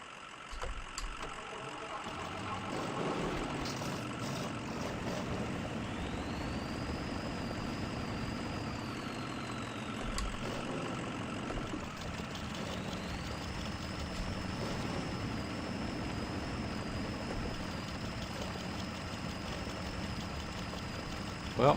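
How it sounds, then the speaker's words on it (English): A truck engine strains in the off-road mud game Spintires, with a second truck hooked up to it. It gives a continuous loud, low drone with a rising and falling whine that holds steady for the whole stretch, and no one talks over it. "We got a truck, another truck hooked up to it, and it's still going."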